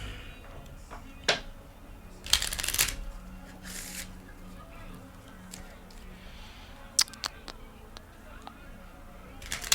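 A tarot deck shuffled by hand, with soft riffles and sharp card snaps in scattered bursts, close by, while a voice talks faintly at times.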